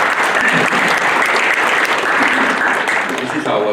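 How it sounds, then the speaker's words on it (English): An audience claps loudly and steadily for a few seconds. "can we give a round of applause to our senators for supporting?"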